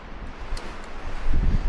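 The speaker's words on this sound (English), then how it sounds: "it's gotten really windy" Wind rumbles and gusts against the microphone in Devil's Canyon, growing stronger toward the end of the brief moment.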